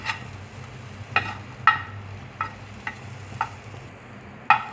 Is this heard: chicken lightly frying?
yes